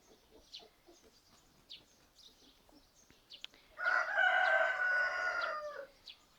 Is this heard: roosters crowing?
yes